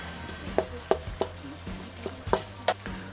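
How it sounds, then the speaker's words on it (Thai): Red curry paste being stir-fried in a pan over medium heat, with a steady low sizzle under a series of sharp scraping and tapping spatula strokes, about eight of them in irregular rhythm. "ผัดทุกอย่างให้เข้ากันนะครับอันนี้ใช้ไฟกลางๆนะครับ"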